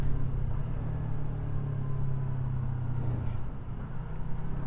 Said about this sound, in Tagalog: Traffic na naman dito sa Commonwealth.